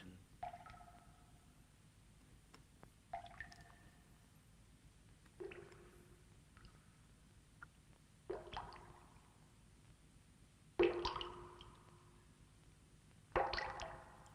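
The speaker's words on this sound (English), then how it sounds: "The camera moves in time with the water sound effects." Sparse, faint watery drips and plinks sound one at a time at irregular intervals over a quiet background.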